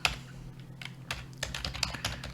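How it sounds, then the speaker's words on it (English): Computer keyboard typing during a coding session, a steady run of quick clicky keystrokes with small bursts and pauses, close and moderately loud over a low hum, no talking. "if I can type"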